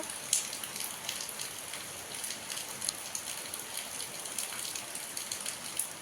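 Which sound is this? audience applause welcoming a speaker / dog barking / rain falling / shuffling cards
rain falling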